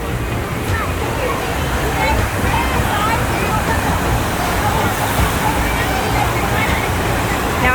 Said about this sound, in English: Look at this Flow Rider.